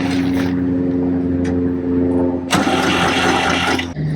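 Diesel farm tractor engine idling with a steady low rumble, then catching and starting up abruptly partway through, running louder and rougher afterward before settling.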